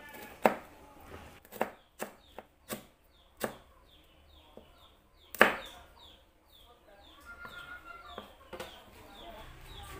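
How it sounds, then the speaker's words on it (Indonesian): A knife cuts diagonally through a large red chili on a board, giving a series of sharp, separate chopping knocks at an uneven pace, close and fairly clear against a quiet background. "Satu biji cabai merah besar diiris serong."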